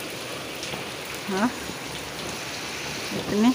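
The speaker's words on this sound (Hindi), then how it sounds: "तेज़ बरसात हो रही है भाई, राहत मिल गई गर्मी से।" Heavy morning rain pours down steadily, a loud, dense hiss of falling water with no breaks, while a person speaks briefly over it.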